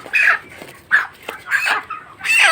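Chickens on a poultry farm cluck in four or five short, bright bursts spaced irregularly, close and fairly loud, with no talking.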